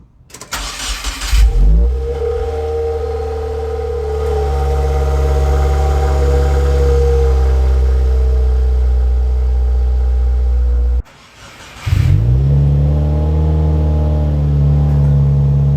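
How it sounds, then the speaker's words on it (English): A 2017 Subaru WRX with an Invidia R400 exhaust cranks and fires up, settling into a loud, steady idle, then shuts off briefly before restarting and idling again, close and clear with no talk. "Robin, go ahead and start the car up and see how she sounds"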